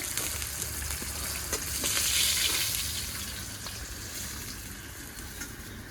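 Fish fry in hot oil, a soft steady sizzle close by with a few faint clinks and stirring sounds, swelling slightly midway and carrying on without any talk.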